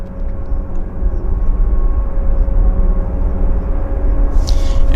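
A WestJet airliner bound for Cabo San Lucas passes on a wet runway, a steady low jet rumble with a faint engine whine holding loud and even throughout.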